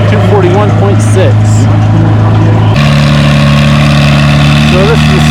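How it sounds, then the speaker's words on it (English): A Farmall C tractor engine runs at a tractor pull, a loud steady mechanical drone that shifts to a lower, rougher tone partway through, with a voice talking over it. "So this is the second tractor of this pair, Farmall C."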